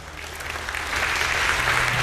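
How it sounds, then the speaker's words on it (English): A telethon audience at the CHEO Telethon claps in a steady, dense round of applause that swells slightly toward the end. "clapping for you"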